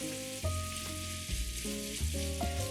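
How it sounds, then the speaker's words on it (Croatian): Moussaka filling of ground meat with paprika, garlic and pepper sizzling in a pan while being stirred, close and moderately quiet, with clattering spoon scrapes and a steady crackle. "Nastavim da mešam dok skoro sva voda ne ispari."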